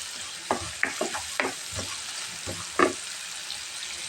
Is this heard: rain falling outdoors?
no